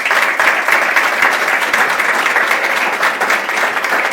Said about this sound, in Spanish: Yo creo que se merecen un aplauso.